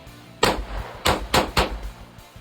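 BB gun shots from a Steyr air pistol: four sharp, close cracks with metallic clang, the first alone and the last three in a quicker cluster, each with brief ringing decay.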